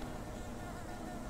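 Bees in a video game drone in a steady, dense buzz with no breaks, fairly quiet and with no talk over it.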